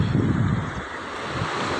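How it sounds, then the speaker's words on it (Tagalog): Ocean waves crashing on a beach shore, a steady loud wash of surf mixed with strong wind noise on the microphone, continuous through the short stretch. "Ganon kaganda pag humampas ang alon."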